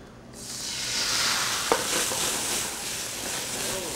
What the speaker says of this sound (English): The garlic looks to be starting to take color, so I'll deglaze the pan